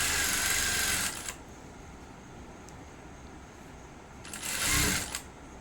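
A sewing machine stitching a boat-neck blouse runs in two short bursts, one at the start and another near the end, with quiet handling in between and no talk.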